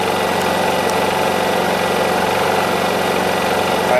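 The engine of a Honda EU2200i inverter generator drones steadily and loudly nearby, an even, continuous hum with no pauses.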